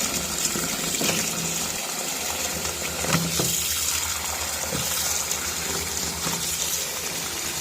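Steady gush of tap water running continuously as vegetables are washed for a sambar, with faint clinks and handling noises over the flow and no talking.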